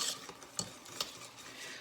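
A utensil stirring a thick custard mixture of egg and granular sugar in a bowl, giving a few soft scraping strokes at close range with no talk.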